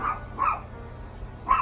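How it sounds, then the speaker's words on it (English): Dogs bark during a summer garden walk, giving three moderately loud barks at uneven intervals over a low background hum. "These dogs are barking"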